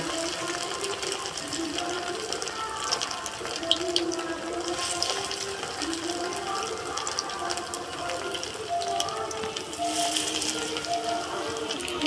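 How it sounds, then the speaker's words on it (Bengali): Pakoras made of jute leaves and rice deep-frying in hot oil, a steady crackling sizzle that holds throughout at close range, with a faint voice now and then beneath it. "এবারে আমি আর এক রকম বড় সাইজ করে পকোড়াগুলো ভেজে নিচ্ছি"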